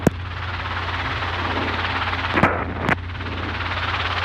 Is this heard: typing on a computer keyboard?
no